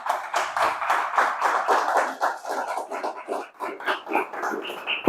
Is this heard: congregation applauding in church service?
yes